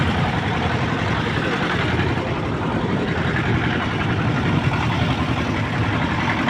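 A sand-dredging engine drones on a river near a trawler, a loud, steady, close rumble that holds without pause and with no voices.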